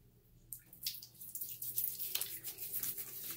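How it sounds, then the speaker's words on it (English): Tap water runs and splashes in a sink as hands scoop and throw it onto a face before a shave, a series of close, irregular wet splashes over a steady trickle. "put this blue water on my face"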